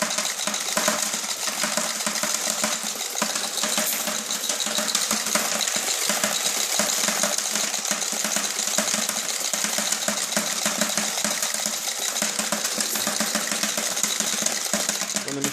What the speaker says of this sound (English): So I'm going to turn it on. You'll see the pennies start spinning, and some pennies go in one side, and some pennies go in the other.